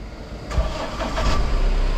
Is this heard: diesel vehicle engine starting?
yes